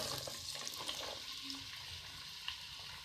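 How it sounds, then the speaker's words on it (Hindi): Onions frying in hot oil in a kadai for spicy baingan bharta give off a soft, continuous hiss with light crackles, fairly quiet and even from start to finish. "तेल हमने डाल लिया कढ़ाई में, अब प्याज डालेंगे इसमें"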